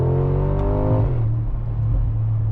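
A loud 2025 Mercedes-AMG G63 SUV engine revs with a rising tone, drops sharply as the gear changes, then carries on as a steady, deep rumble.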